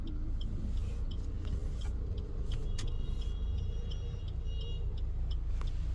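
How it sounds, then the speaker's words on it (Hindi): Heavy road traffic moves along a street in an Indian city, with a car engine rumbling nearby under a dense wash of passing vehicles and occasional high-pitched horn toots, loud and continuous, with no speech. "ट्रैफिक कितना हो रहा है अभी"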